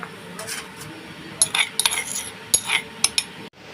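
Ginger and green chilies are pounded in a mortar, producing a quick series of sharp, close knocks and clinks, bunched in the middle of the clip, over a quiet background.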